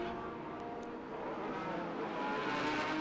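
Lola T9720 prototype race cars at Sonoma Raceway: a continuous engine drone of cars passing at a distance, rising gradually in loudness over a few seconds with no talk.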